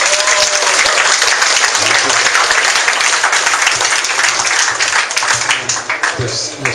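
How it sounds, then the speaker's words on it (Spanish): A loud, dense burst of applause from a university audience of UNAM students in Morelos for a professor, sustained many-handed clapping that thins slightly toward the end. "fuerte aplauso al profesor"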